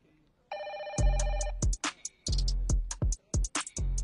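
A telephone rings with a steady electronic tone in a Telugu film scene, then gives way to loud, choppy bursts of sound and voices.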